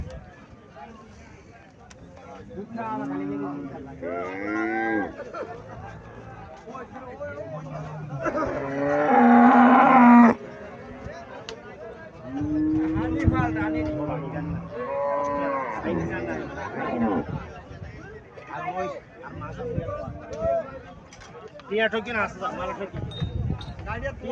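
Haryana cows and calves lowing at a cattle market, with one loud, drawn-out moo standing out amid steady talk and crowd chatter from nearby traders.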